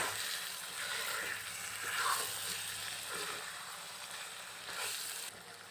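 Chicken frying with meat masala in a pan, a dense steady sizzle with soft stirring scrapes, fairly close, no one talking.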